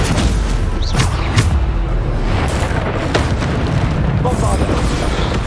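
Repeated Bombarda explosion spells in Hogwarts Legacy on PS5 burst with heavy booms and crackling debris in a chaotic battle, loud and continuous, with a voice shouting over the combat.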